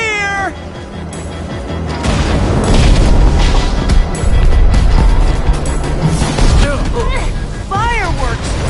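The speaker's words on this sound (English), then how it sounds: "Fireworks!" Fireworks burst with booming blasts in a Minecraft-style video game battle against the Wither Storm, dense explosive rumble over game music and a creature's wailing cries, with voices of characters calling out.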